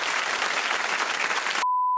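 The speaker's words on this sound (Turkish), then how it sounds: "Alkışlayın, alkışlayın." Dense crowd applause and cheering, added as a sound effect in Minecraft gameplay, fills a short burst and then cuts off abruptly into a single steady electronic beep.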